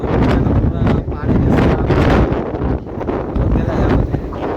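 Strong gusty wind buffets the microphone at the seashore, a loud, continuous roar with surging gusts that covers any sound of the waves.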